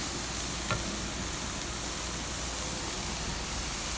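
Steady, loud sizzle of salsa ingredients searing in a hot pan, with a brief scrape of stirring partway through, a continuous dense hiss with no talking.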